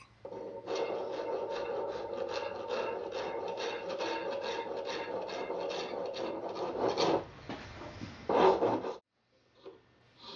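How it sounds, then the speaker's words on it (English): A file scrapes steadily across the guard of a knife handle in quick, even back-and-forth strokes for about nine seconds, close and continuous, before stopping to near silence. "Now I'm working on the detail area of my guard, and just very, very carefully filing across this."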